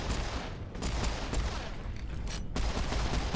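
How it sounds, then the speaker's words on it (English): Dual pistols in Serious Sam 4 fire in a rapid, continuous barrage, loud close shots blending with the din of gunfire and battle noise, with a brief lull before it resumes. "2 pistols is not the most effective strategy against this enemy, but it's working"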